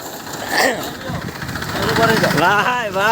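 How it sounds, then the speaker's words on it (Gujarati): A tractor engine idles with a steady low rumble while voices talk loudly over it nearby. "ટ્રેક્ટર આવી ગયું છે"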